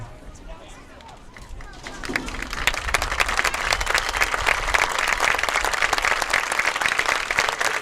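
Crowd in the stands at a high school football game starts clapping for military veterans, quiet at first then swelling into steady, loud applause that holds to the end.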